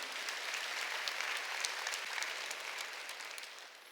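A Korean church congregation applauds during a Sunday worship service, a dense, even patter of many hands that fades slightly toward the end, with no talk over it.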